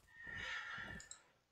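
A horse neighs in the Pike and Shot strategy game, a single clear whinny lasting over a second, moderately faint and alone with no talk.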